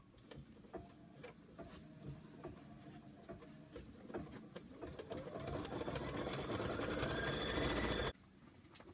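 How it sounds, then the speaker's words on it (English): An embroidery machine stitches a heart placement line, its needle pattering in quick repeated bursts that build into a fast steady run before stopping abruptly near the end. "I'm going to stitch the heart placement line now"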